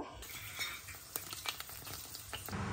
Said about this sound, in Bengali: আমি এখন এখানে চিকেন রান্না করব